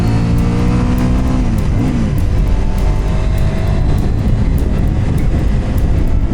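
A CFMOTO 800NK motorcycle engine runs loud and close, its harmonic tone sweeping as the revs change early on and then settling into a dense, steady roar with no talk over it.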